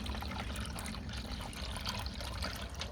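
Liquid streams steadily into a car engine being refilled during a run to blow the head gaskets, a continuous close gurgling pour without talk.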